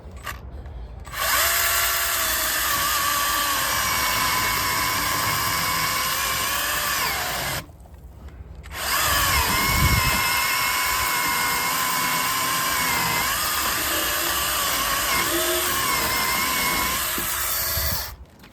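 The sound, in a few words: chainsaw with automatic oiler system running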